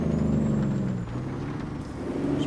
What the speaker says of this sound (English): We have a very heavy load, and it's a very wet road, so we're definitely going to be braking here.